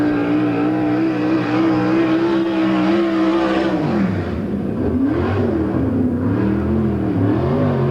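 A non-wing sprint car races a qualifying lap at Lincoln Speedway, its engine roaring loud and steady, then wavering and rising as it throttles through the turns, with no talk.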